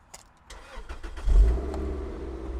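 A 2003 Toyota MR2 Spyder TRD five-speed fitted with a K&N air filter starts up, its engine catching with a low rumble that swells, then settles into a steady close idle, with no talk over it.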